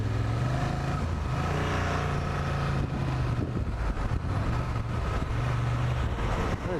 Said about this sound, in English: we'll see if I can get it up to speed, or at least some sustained RPMs to see if that vibration would be an issue